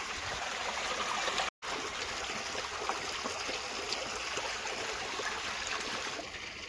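Irrigation water flows steadily on a farm plot of lemon trees, a close, continuous rushing and trickling that fades slightly toward the end, with no talk.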